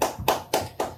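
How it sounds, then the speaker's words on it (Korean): A church congregation claps together in praise, four sharp, evenly spaced claps in quick rhythm, close and fairly loud, with no talk. "하나님께 영광의 박수를 올려드립니다"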